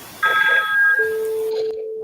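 A short electronic phone ring, a bright tone followed by a steadier lower beep, loud and close.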